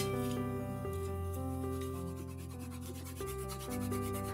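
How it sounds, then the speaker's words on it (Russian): A Chinese-made Japanese-style saw levels a wooden workpiece with soft, rhythmic rasping strokes, heard faintly beneath steady background music. "Для этого воспользуемся японской пилой китайского производства."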